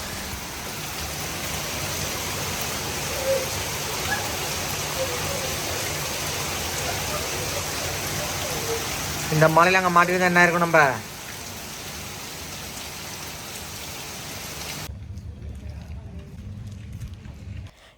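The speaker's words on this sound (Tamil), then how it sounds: "மழையும் பெஞ்சிட்ருக்கு மழையும் விடலை" Steady rain falls outdoors on a hillside in Thailand, a continuous even hiss under faint talk, with a brief louder burst partway through before the hiss drops away near the end.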